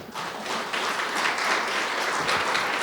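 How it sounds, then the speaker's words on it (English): A large audience applauds at a university fundraising campaign's public kick-off event, a dense, steady round of clapping sustained throughout without speech. "if we could do a big round of applause"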